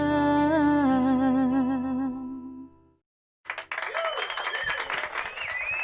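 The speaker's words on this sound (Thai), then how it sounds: "ผมชอบเสียงปรบมือมาก เอฟเฟกตบมือ" A hand-clapping sound effect plays in a live music session: a sustained sung note fades to a short silence, then bursts of crowd-style clapping come in fairly loud with a voice speaking over them.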